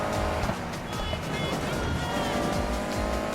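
A Honda Civic drifting in Need for Speed Heat, its engine roaring loud and close while tires squeal continuously through the slide, with faint speech beneath.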